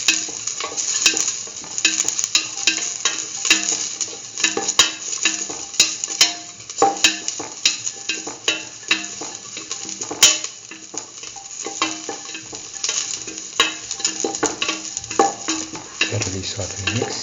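Chillies sauté in hot oil in a pan for a mustard okra stew, a continuous sizzle broken by frequent scraping and clinking strokes of a spoon stirring, close and busy throughout with no talking.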